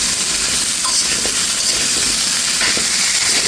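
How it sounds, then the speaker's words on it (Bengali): Bitter gourd frying on high heat in a pan, a steady broadband sizzle and hiss running continuously with faint stirring clicks, close and fairly loud, no talking. "করলাটাও খুব সুন্দর করে ভেজে নিচ্ছি"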